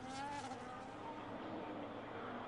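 High-revving Formula 1 car engine in an F1 racing game, Spanish GP at Barcelona, a steady loud whine with shifting harmonics as the car takes a corner, continuous throughout with faint broadband noise and no clear speech.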